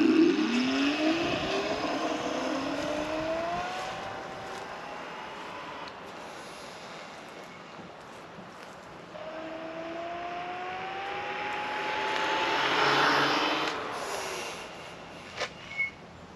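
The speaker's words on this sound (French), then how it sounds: "je vais me mettre en mode que la roue arrière avec le mode 1, donc le mode éco" Electric scooter ridden on its rear wheel only in eco mode, its motor whine rising in pitch twice as it accelerates, with road rumble and a brief clunk near the end.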